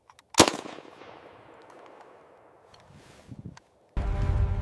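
AK-47 rifle fire: one sharp, loud shot with a decaying echo tail, a few softer knocks later, then a sudden burst of dense, loud noise at the end.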